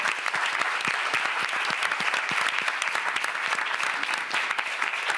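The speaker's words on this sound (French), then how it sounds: "Et ils méritent vos applaudissements" A press conference audience at the Cannes film festival applauds steadily, a dense, even wash of many hands clapping at close range for several seconds with no talk over it.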